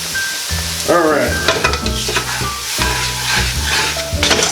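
A spatula steadily stirs a Cajun roux with vegetables in a pot. Loud continuous sizzling and frying runs under repeated scraping strokes across the pot bottom.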